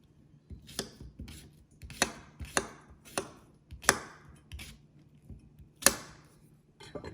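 Knife cutting straight across a cucumber on a cutting board, about a dozen crisp chops at an uneven pace, close and clear with quiet gaps between strokes.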